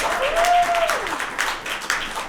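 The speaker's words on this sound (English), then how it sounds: "huge round of applause for this lady," A crowd at a women-in-medicine panel event gives a lady a round of applause: steady, full clapping throughout, with a brief whistle-like cheer rising over it near the start.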